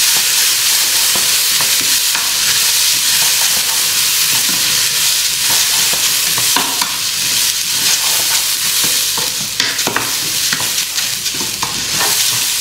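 Rice stir-fried in a pan for a coconut milk rice dish flavored with ginger, giving a loud, continuous sizzle with frequent scraping and stirring clatters, with no talking.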